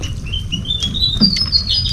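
Birds chirp in a forest, giving a bright stream of quick, high tweets and trills that carry on for the whole stretch over a low patter of background noise, with no voices.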